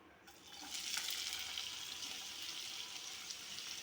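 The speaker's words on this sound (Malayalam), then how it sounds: "അതിലെ എണ്ണ ചൂടായി വരുമ്പോൾ നമുക്ക് അതിലേക്ക് കൊച്ചുള്ളി ഇടാം" Shallots dropped into hot coconut oil in a Kerala kitchen, a sudden bright sizzle that swells within the first second, then settles into a steady, close crackling fry.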